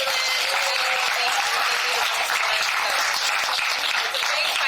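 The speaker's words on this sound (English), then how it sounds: "So can we get a round of applause for Mike and Raylan?" Steady, dense applause from a live audience at a regional meeting, loud and continuous throughout with no talking over it.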